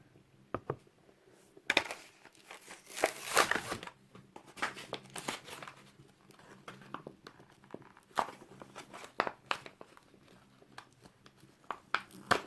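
Paper packaging glued tightly to a die-cast '89 Porsche 944 Turbo toy car is torn and crinkled off in close, irregular bursts, with quieter gaps between the rips and no speech.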